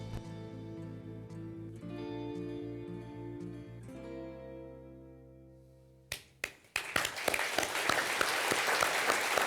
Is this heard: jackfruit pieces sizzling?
no